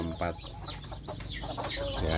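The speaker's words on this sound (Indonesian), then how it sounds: "Di dalam box ini anak ayam kampungnya ini saya sertakan dengan induknya" Newly hatched native village chicks peep and a mother hen clucks inside a brooder box, close up, with a voice speaking over the continuous soft chirping.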